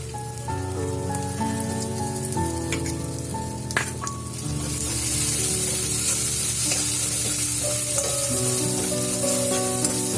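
A spice paste fries and is stirred as charmagaj (melon seed) paste goes in, for a jackfruit kofta curry. A dense, continuous crackling sizzle carries throughout and grows louder and hissier halfway through, over a steady tonal background.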